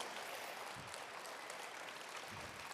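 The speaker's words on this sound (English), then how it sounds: "could we please give one more huge applause for Leela Dance Collective?" A live audience applauds a dance collective's performance, with steady, dense clapping that fills the whole stretch at moderate loudness and no talking over it.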